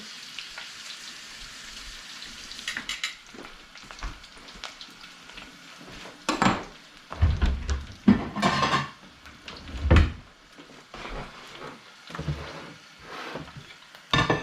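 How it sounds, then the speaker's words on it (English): Soft sizzling of onions frying in hot oil, with occasional clatters and knocks of utensils and cookware nearby. "You never want your oil to smoke while you're frying something."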